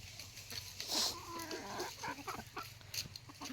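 Free-range village hens cluck in a shed in Ratnagiri: faint, scattered clucks and short calls over a low, soft farmyard background, with no talking.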